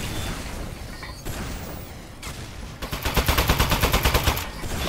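Gunfire from the video game Aperture Desk Job starts as scattered clatter with a few impacts, then becomes a loud, rapid string of evenly spaced shots near the end.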